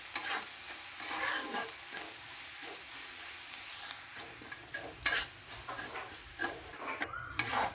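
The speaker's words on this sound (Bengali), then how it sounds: "ডালটা এবার লাল লাল করে ভেজে নিতে হবে।" Dal that has dried out is dry-fried and stirred in a pan until reddish, giving repeated close spatula scrapes and light rustling over a faint steady hiss, with one sharp clink midway.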